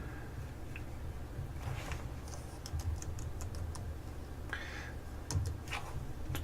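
Someone types on a computer keyboard in quiet, scattered bursts of light clicks, with short pauses between groups of keystrokes.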